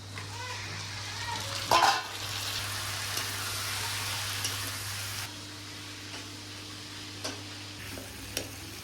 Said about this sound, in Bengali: এই আদা রসুন পেঁয়াজ ভাজা ভাজা হয়ে গেছে, খাসি মাংস দিয়ে দেবো